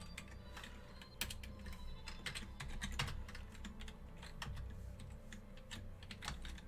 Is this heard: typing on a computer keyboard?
yes